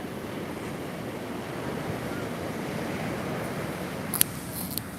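Waves rolling in on the beach at Half Moon Bay give a constant rushing roar mixed with wind noise, steady throughout, with a couple of faint clicks near the end and no talking.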